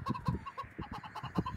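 Video game chicken clucking in short, rapid, repeated bursts, close and fairly loud, while the bird chases the player's character.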